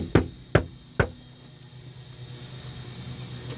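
Someone knocks three times on a door in a firm, evenly spaced rhythm, close and loud. Quiet room tone and faint hiss follow.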